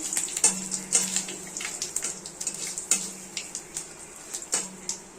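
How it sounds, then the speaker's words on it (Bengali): Dried red chillies and panch phoron frying in hot oil for a mango chutney, giving a steady soft sizzle with spoon scrapes and light clinks against the pan. "একটু ভাজা ভাজা করে"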